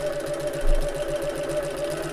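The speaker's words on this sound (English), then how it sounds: "sew down to this bottom corner, needle down, lift the presser foot and pivot" A sewing machine stitches fabric in a steady, rapid mechanical hum with a regular pulsing rhythm, close and fairly loud, with one brief louder thump partway through and no talk.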